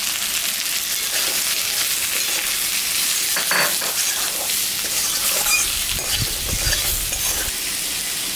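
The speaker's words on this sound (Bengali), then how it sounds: "সবজিটা ভাজা ভাজা হয়ে গেছে।" Vegetables with potato and papaya frying in a pan for a thin singhi fish curry, a steady bright sizzle with occasional stirring scrapes and clinks, close up and continuous.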